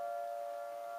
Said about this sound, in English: you can hear the sirens ringing while it's noon.